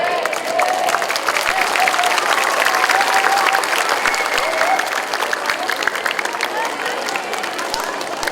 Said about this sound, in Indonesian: Kenapa adik-adik tepuk tangan?